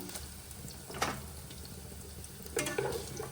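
Paneer cubes are tossed and fried in a pan for palak paneer, a steady low sizzle broken by two louder bursts of stirring and scraping, close and without voices.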